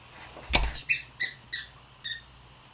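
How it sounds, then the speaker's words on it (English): A dog plays with a squeaky toy, giving one sharp thump then four evenly spaced high squeaks, close and clear in a quiet room. "the ring light being on is not a cue for you to play with your squeaky toys"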